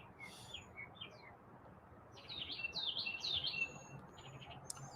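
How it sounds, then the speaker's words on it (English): Outdoor birds chirp in short, faint bursts, with a thicker flurry of tweets in the middle, over a constant hiss of background noise. "Man, can you hear the birds?"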